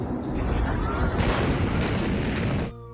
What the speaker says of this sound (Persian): این داستان یک انفجار است.